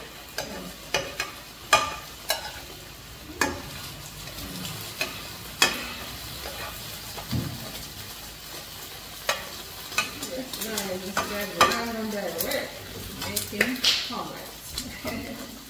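Omelette cooking in a frying pan, soft continuous sizzling beneath repeated clicks and scrapes of a utensil against the pan, with a person talking over it at times.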